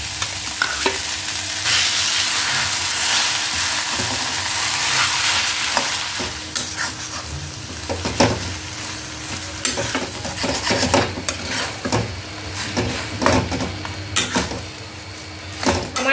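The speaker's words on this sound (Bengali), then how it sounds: "এরপরে সময় হয়ে গেছে মাছের ডিমটা দিয়ে দেওয়ার" Fish roe fries with onion and tomato in a pan, a steady sizzle broken by irregular scraping strokes of a spatula stirring the mixture, close and fairly loud, with no talking.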